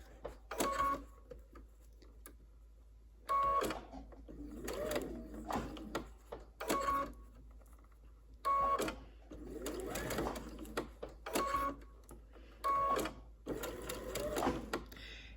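Domestic sewing machine stitching fabric along a curve, running in repeated short bursts with pauses between as the fabric is lifted and repositioned under the presser foot; a voice talks between runs.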